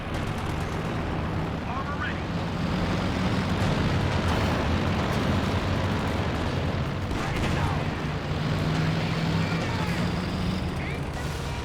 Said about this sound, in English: IL-2 and Katyusha combine forces to wipe one of those squads